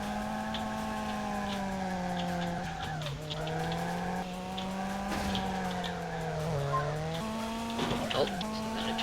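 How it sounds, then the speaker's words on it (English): Race car drifting in a dusty desert racing video game, its engine droning steadily with pitch dips and swells as tires squeal through the slides, continuous and loud with no talk over it. "Oh, so I got a drift there."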